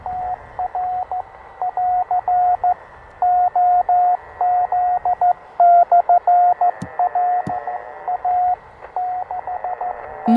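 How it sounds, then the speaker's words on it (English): Morse code keyed on a German WW2 Torn.Fu.b1 radio, a clear steady tone beeping in rapid dots and dashes, loud and close over faint background hiss, with a couple of sharp clicks. "Morse code is a very efficient and reliable form of communication."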